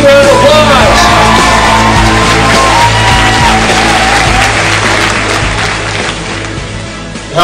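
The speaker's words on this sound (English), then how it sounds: "Give them a big round of applause." A crowd at a community event cheers for the Grey Cup champion BC Lions with shouts, whoops and clapping over loud music, the noise gradually tapering off.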